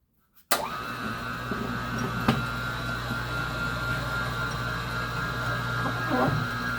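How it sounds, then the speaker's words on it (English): A model elevator winch on a layout whirs steadily as its cable pays out, a continuous mechanical hum with a faint ratcheting texture, starting abruptly and running close and moderately loud throughout, with a small clack near the end. "you can hear the winch going past when I released it"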